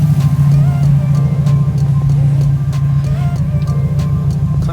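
Car engine idling steadily just after an HKS front-mount intercooler install, a low even hum holding a constant pitch throughout with faint mechanical ticks layered over it.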